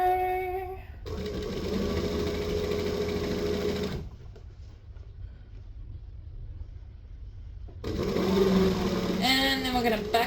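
A sewing machine stitches an apron in two steady whirring bursts, the first about three seconds long and the second starting near the end, separated by a quieter pause. Someone talks at the start and near the end.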